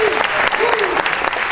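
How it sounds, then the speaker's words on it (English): Audience applauding and cheering at a kayak fishing tournament event, a dense steady clatter of clapping lasting throughout with voices calling out over it. "Yeah, round of applause for that."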